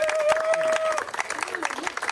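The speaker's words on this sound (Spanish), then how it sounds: "¡Un fuerte aplauso para Igor!" A game-show audience applauds an eliminated contestant in a short burst of clapping mixed with crowd noise and a voice over it.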